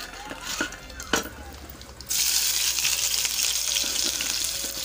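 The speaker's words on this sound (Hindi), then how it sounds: "मैं इसमें प्याज को भी डाल लेती हूँ" Onions drop into hot oil with cumin in a kadhai, setting off a sudden loud, close sizzle that keeps hissing steadily after a few quieter knocks and stirs.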